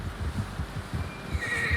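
A horse neighs in Red Dead Redemption 2: a single close, clear whinny with snorting breath, heard alone with no talk.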